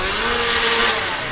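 Vintage snowmobile engine revving close by, with poor clutching giving an uneven, strained rise and fall in pitch over a short burst.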